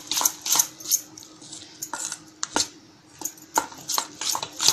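A whisk beats gram flour batter for capsicum pakoda in a bowl, with quick rhythmic clinks and scrapes against the sides, close and fairly loud, in bursts with brief pauses.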